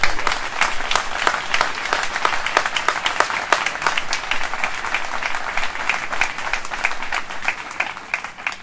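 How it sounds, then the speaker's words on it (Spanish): Sustained applause from a gathered audience at a public meeting, many hands clapping in a dense, even roar with sharp individual claps standing out, continuing loudly throughout. "Un aplauso para todos ellos."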